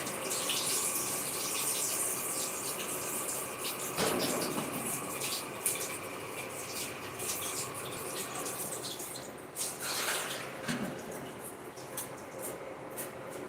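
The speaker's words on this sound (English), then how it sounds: "I'm going to wash my hands before coming stir." Hands are washed under a running kitchen tap with a steady rush of water, close but fairly quiet, with shifting splashes as the hands move through the stream and no one talking.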